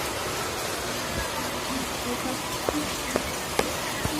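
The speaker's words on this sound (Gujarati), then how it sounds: "તો અહીંયા સાઈડ બહાર જોરદાર વરસાદ પડવા માંડ્યો." Heavy rain falls steadily outside as a soft, even hiss, and a few sharper drips and taps stand out from it.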